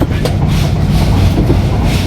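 Train running past a highway, a loud, steady rumble with rhythmic rail clatter heard from on board, continuous throughout.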